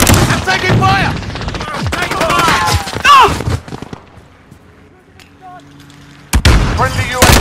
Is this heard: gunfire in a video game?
yes